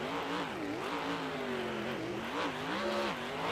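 A monster truck engine revs hard during a freestyle run at an arena show in St. Louis, Missouri, its loud, roaring pitch swooping up and down in repeated surges over continuous crowd and arena noise.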